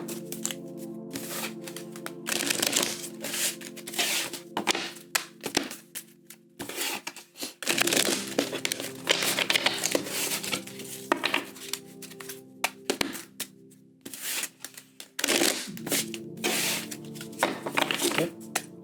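Tarot cards being shuffled by hand three times, crisp riffling and rustling bursts with soft taps between them, close and fairly steady over nearly twenty seconds.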